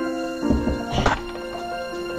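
A wooden mallet knocks a picture frame apart, giving a few dull thunks close by, with the strongest strike near the middle amid lower clatter and background hum.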